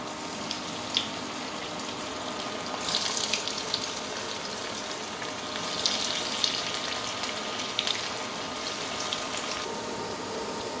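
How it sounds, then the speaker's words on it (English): Manchurian balls deep frying in hot oil in a pan over a medium flame, giving a steady bubbling hiss with crackly surges, no talking. "To fry the Manchurian balls into the pan, let's add it one by one."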